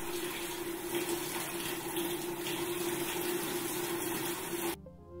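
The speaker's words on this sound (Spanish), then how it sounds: "Esto es una cascada infinita de Escher." Water runs steadily and evenly from an infinite Escher waterfall model, a constant splashing flow with a low pump hum underneath, close by and alone until it cuts off abruptly near the end.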